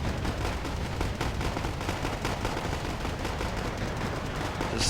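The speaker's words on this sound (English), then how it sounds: "There's so much going on, so many explosions and mortars and small arms fire, Black Hawks flying over." Constant dense battle noise from the video game Wargame AirLand Battle: a continuous wash of explosions, mortar blasts and rattling small arms fire, loud and unbroken throughout with no talk.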